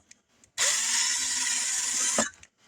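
A small power drill fitted with a 1.35 mm bit whirs steadily for under two seconds while cleaning solder out of a DC wiring connector, starting and stopping abruptly, close and alone.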